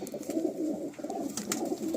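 Racing pigeons cooing in a loft, a continuous chorus of low throaty coos rolling over one another, close and moderately loud, with faint rustling in the background.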